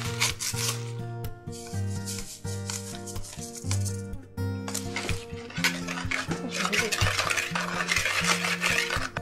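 Sugar and vanilla sugar are stirred together in a bowl for cupcake batter, giving repeated gritty scraping and rubbing strokes up close, with a steady musical tone playing underneath.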